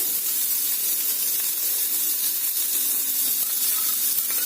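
Onions and chopped garlic sizzling in a hot pan, a dense, even hiss of frying that stays steady and fairly loud throughout, close up with no speech.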